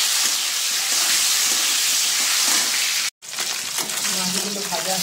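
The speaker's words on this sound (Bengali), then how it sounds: "কড়াইয়ের তেলটা গরম হয়ে গেছে, এবার ছোটো ছোটো টুকরো করে রাখা মাছগুলো ভেজে নিই।" Small pieces of fish frying in hot oil in a wok, giving a dense, steady hiss and crackle throughout, with a brief dropout and some faint voice-like sound underneath.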